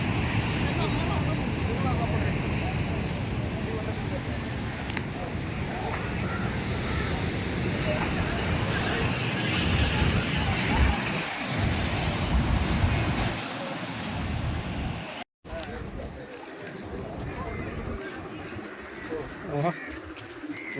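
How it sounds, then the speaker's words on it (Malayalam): Ocean surf rolls in at Kovalam Beach in Trivandrum, a loud, continuous wash of breaking waves with wind buffeting the microphone, steady throughout apart from a brief dropout late on. "ഓ തിരമാല"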